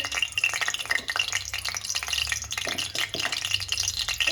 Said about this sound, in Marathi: तेल गरम झालंय त्यामध्ये आता आपण अर्धा चमचा जिरे अर्धा चमचा मोहरी टाकायचे